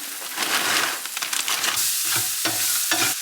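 Peppers hit a hot pan with curry powder and black pepper, giving a close, steady sizzle broken by scraping stir strokes.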